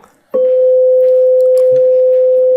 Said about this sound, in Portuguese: o som mais puro possível é o do diapasão